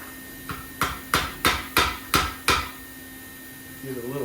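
A hammer beats a small sheet-metal smudge pot back into a round shape, six or seven sharp metallic clanks landing at a steady, close rhythm before the blows stop.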